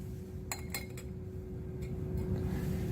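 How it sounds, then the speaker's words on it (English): A glass watch glass is set over a beaker on a lab hot plate, giving a few light, close glassy clinks near the start against a steady low hum of background noise. "cover it with a watch glass"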